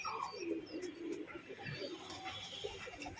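Pet pigeons at a home coo softly in repeated low throaty phrases, with faint chirps and a light background hum, and no voices.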